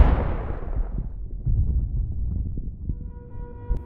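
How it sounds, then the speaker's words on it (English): An FPV drone attack strikes an abandoned house in a winter assault, a heavy explosion bursting up front and decaying into low rumbling debris, with a few smaller cracks and thuds trailing after. "The drone then launches an attack hitting one of the houses."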